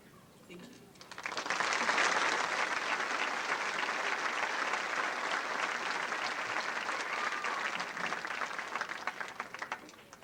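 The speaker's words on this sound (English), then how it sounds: "Let's give them all a round of applause again." An audience at a high school commencement bursts into sustained applause, a dense wash of clapping that swells after a moment and holds steadily for several seconds.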